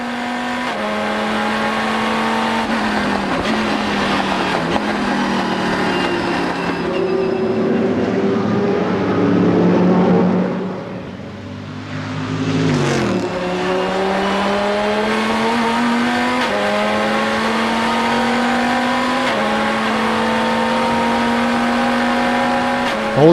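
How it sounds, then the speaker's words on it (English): Powerful muscle race cars roar at full throttle on the Nürburgring Grand Prix circuit, rising through the gears, fading briefly as one passes, then surging again with rising pitch. "All these huge muscle cars absolutely flat out around the Grand Prix circuit at the Nürburgring."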